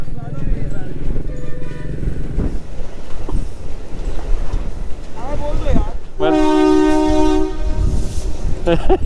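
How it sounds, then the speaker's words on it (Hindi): Train pulling into a railway station on a road trip from Bangalore toward Kanyakumari, rumbling close by as its horn blares loudly in the second half, with people talking over the noise. "एक घंटे के वेट के बाद फाइनली ट्रेन आ गई"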